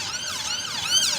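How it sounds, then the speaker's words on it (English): An ambulance siren passing in Westminster, London, wails up and down in rapid cycles, loud and steady, with faint traffic rumble underneath. "Ambulance going past."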